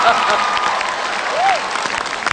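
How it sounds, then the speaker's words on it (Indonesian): Audience applause for a stand-up comedy act, a steady wash of clapping from a crowd that holds fairly loud throughout, with a brief whistle-like tone rising and falling partway through. "tepuk tangan dulu dong untuk Pak Ahok"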